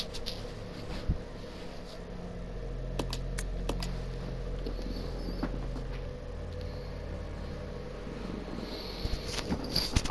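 In the Resident Evil Zero video game, a typewriter clacks out a save with scattered, irregular keystrokes over a low, steady game-ambience hum.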